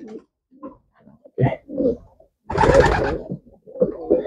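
Pigeons, including a female, coo in a series of soft close throaty calls with gaps, one longer louder burst in the middle.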